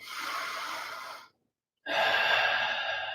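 Two long, airy breaths drawn in close to the microphone during a guided breathing exercise, separated by a short pause of silence.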